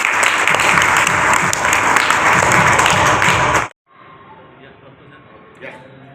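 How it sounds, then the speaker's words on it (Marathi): Audience applause at a Giants Group installation ceremony, loud and sustained for several seconds before cutting off abruptly, followed by quieter room sound with faint voices. "कृपया त्यांच्यासाठी टाळ्या वाजवा।"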